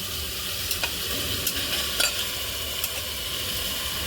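Marinated mutton pieces sizzle steadily in a masala paste in a hot pan for a spicy mutton rassa, a dense close frying hiss broken by a few faint scrapes of stirring, with no talk.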